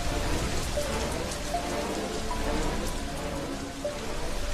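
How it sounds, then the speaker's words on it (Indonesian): Heavy rain pours down in a dense, continuous hiss of drops striking surfaces, steady and enveloping, with no distinct thunderclap standing out. "Petir mulai menyambar, hujan lebat turun membanjiri bumi."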